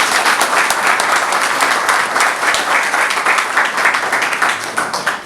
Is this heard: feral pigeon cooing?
no